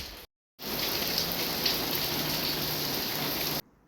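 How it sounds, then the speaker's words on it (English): Heavy rain pours down in a steady, dense hiss after a brief silent gap, loud and close, with a few sharper droplet ticks and no voices. "the rain went from heavy to hard to ending at biblical"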